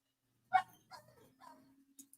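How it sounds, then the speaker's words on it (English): A dog barks four times in short, sharp bursts spaced about half a second apart, fairly close and moderately loud, with no talk around it. "dog yelling at somebody about something."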